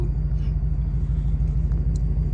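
Ford Mustang tuned on E85 fuel idling or rolling slowly, a deep, steady low engine rumble heard close and continuous.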